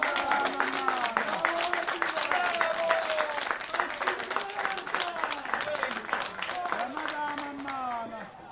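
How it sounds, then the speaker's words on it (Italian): Crowd applause with scattered clapping and cheering at an Agropoli–Rende football match, loud and sustained across the stadium, with voices calling out over it throughout. "Adesso il pubblico applaudi ironicamente."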